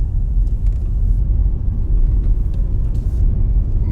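A car driving through narrow back lanes in Fujiyoshida, near the Fuji Five Lakes: steady, loud low engine and road rumble from inside the cabin, constant throughout with no talking.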